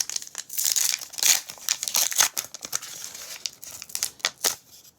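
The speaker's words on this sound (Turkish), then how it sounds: "Üçüncü paketimizi açıyorum." A McDonald's Pokémon card pack wrapper is crinkled and torn open close up, with a run of sharp, papery rips and crackles that come in uneven bursts, no voices.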